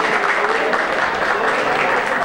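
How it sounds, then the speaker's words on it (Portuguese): Brief, loud burst of audience applause at a music evening, a thick uninterrupted patter of hands from a nearby crowd. "Clemente e Claudir, vamos aplaudir."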